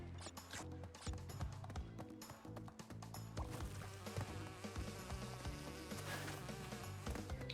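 A bee buzzes in the video game Crash Bandicoot 2, its insect drone mixed into busy game music and thudding effects at a low, steady level.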